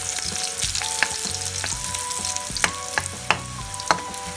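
Eggplant sizzles in a pan of oil with browned garlic, a steady loud frying hiss broken by clinks and scrapes of stirring.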